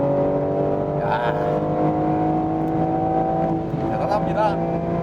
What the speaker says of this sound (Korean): 스포츠 배기 사운드 들어봐야죠.